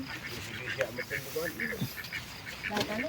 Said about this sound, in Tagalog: May itik na dalawa.